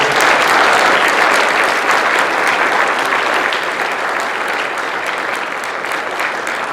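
Sustained applause from a forum audience closing a panel event, dense steady clapping filling the room throughout at a loud, even level.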